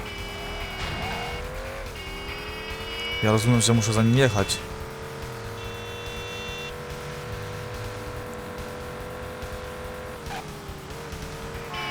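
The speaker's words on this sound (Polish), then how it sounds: "Na pewno w jedynce nie było takiego samochodu z takim dźwiękiem silnika." A car engine drones in the Driver 2 video game on PC, with a steady hum, a brief burst of tire squeal and skidding, while someone talks over it.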